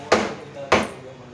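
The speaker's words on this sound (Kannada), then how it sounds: "ಇನ್ನು ಬೆಲ್ಲನ ಕೆಚ್ಕೊಳ್ಳೋದು" Jaggery being broken for a coconut-milk vermicelli dish, two sharp, loud cracking strikes about half a second apart, each with a short decaying ring, close by with no talk.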